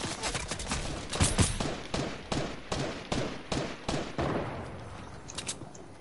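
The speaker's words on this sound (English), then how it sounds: "Are they shooting at you, Dad?" Gunfire in Fortnite: a rapid string of about a dozen evenly spaced loud shots for roughly four seconds, then quieter, more distant pops as the burst tails off.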